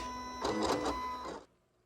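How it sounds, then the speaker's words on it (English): Vinyl cutting machine cutting lettering for a T-shirt, a steady mechanical whir with a faint tonal hum that swells briefly, then stops abruptly, leaving near silence. "All right, machine is cutting."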